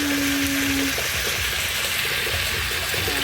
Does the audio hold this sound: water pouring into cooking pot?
yes